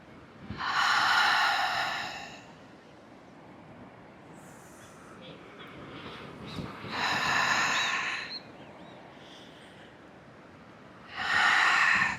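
Slow, controlled breaths during a morning shoulder-roll stretch, with three loud, drawn-out exhalations of about a second each spaced several seconds apart, close to the microphone and heard alone without talk.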